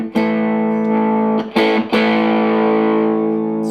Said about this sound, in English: any distortion that I get is when I turn the guitar up